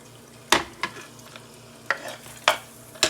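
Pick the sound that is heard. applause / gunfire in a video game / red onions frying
red onions frying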